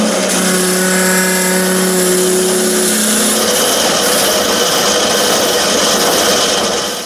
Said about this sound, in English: it's just a case of now gently taking the reamer through this bore